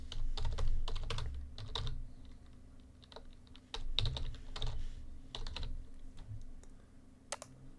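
Fingers type on a computer keyboard at close range, producing a steady patter of quick key clicks in uneven bursts with short pauses and no talking.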